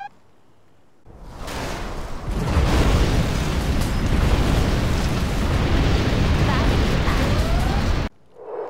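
Nuclear missile detonation in the real-time strategy game Command & Conquer Generals Zero Hour: after a quiet moment a loud, broad roaring blast erupts and rumbles on steadily for several seconds, then cuts off abruptly.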